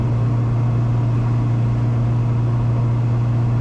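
Steady, droning engine and road noise inside a restored classic Mini cruising at 70 mph in traffic, a constant low hum with a strong tonal drone filling the cabin, loud and unbroken with no talk.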